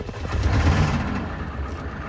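A Ford 7.3 or 6.9 IDI diesel engine idles steadily just after starting, with a continuous low rumble and a slightly raised cold idle, close and fairly loud, with no talking.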